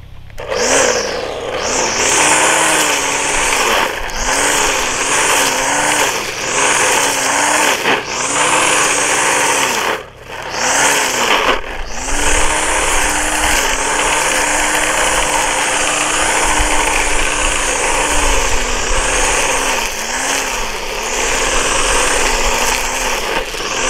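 A weed whip trimmer spins copper house wire as its cutting line, a loud, close, high-pitched engine whine that revs up and down repeatedly, dips briefly, then holds a sustained run.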